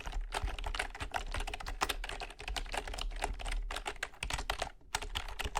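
Close, fast typing on a computer keyboard with an awkward space bar, heard as dense, uneven bursts of crisp clicks and clacks with short pauses, intimate and clear in a quiet ASMR setting.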